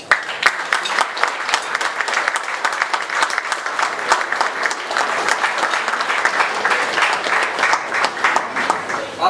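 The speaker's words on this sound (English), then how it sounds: "Please join me in giving him a round of applause." An audience applauds an award recipient with dense, sustained clapping that stays fairly even for the whole stretch, with faint crowd murmur mixed in.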